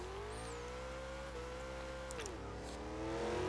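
Engine drone of a manual car driven in the racing game Forza Horizon 2, a steady harmonic hum that shifts pitch with a gear-like drop midway, then swells louder near the end, with no talk.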